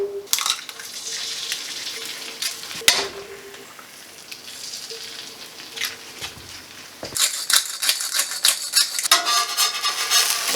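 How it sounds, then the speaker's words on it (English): Two eggs frying in a pan, giving a crackling sizzle with scrapes and clicks from a utensil, steady at first, then louder bursts of spatter toward the end, with no talk. "Just going to fry up 2 eggs real quick."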